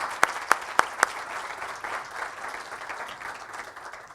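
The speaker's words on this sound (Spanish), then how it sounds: "Les pido un caluroso aplauso para Carlos Ferguson." An audience at a ufology congress in Barcelona applauds steadily, a few sharp claps standing out at the start before the clapping settles into a continuous wash.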